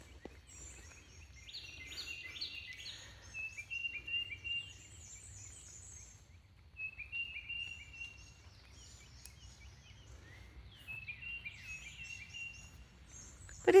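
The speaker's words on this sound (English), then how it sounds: "something about when it's wet, the birds seem louder." Birds sing and call on a wet, rainy morning outdoors: scattered chirps and short whistled phrases, fairly distant and soft, rising and falling over a quiet low rumble of background ambience.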